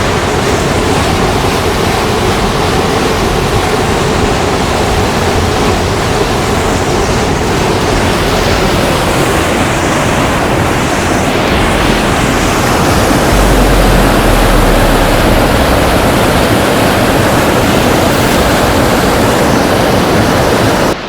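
Loud, steady roar of river water churning through the Strid, a narrow gorge in the Yorkshire Dales, continuous and close with no voices.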